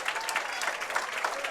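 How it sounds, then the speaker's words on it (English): Crowd applause at a high school bowling state finals singles stepladder match in Indiana, a brief dense burst of clapping from spectators, steady and moderately loud throughout. "the crowd gives her a nice round of applause"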